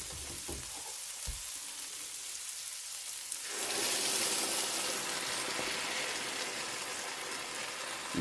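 A mixture is poured into a pan of frying sausage. A quiet low sizzle bursts partway through into a loud, broad, crackling fry that keeps going steadily to the end.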